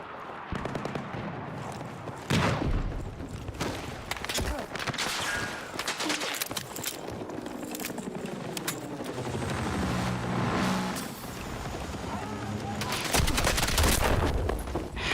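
Rapid gunfire from a DMR rifle in a video game, with loud dense bursts of shots and impacts cracking through the whole stretch and little pause between volleys.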